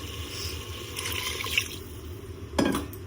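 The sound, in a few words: pouring water into water chestnut curry while cooking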